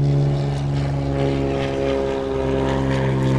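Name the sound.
seaplane propeller engine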